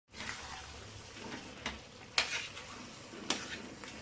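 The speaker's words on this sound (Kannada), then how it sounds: "ಈಗ ಚೆನ್ನಾಗಿ ಮಿಕ್ಸ್ ಮಾಡ್ಕೊಳ್ಳೋಣ." A spoon stirs bitter gourd gravy with cooked moong dal and jaggery in a pan, giving soft wet stirring with a few sharp clinks of metal against the pan, faint and close.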